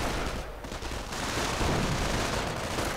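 Gunfire from the World War II strategy game Company of Heroes, a sniper rifle shot among dense, continuous battle noise with overlapping rattling shots and rumble throughout.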